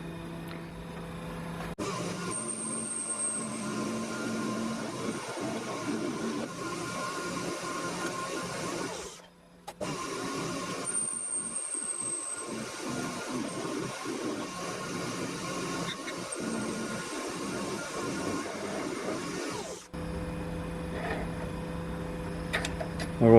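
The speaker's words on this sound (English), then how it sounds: "got to machine this down to 12 mil" A lathe turns down a shaft for a 90-degree gearbox toward 12 mm, producing a steady machine whine and cutting chatter that pauses briefly twice, with no talk.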